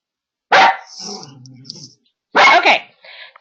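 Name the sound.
dog barking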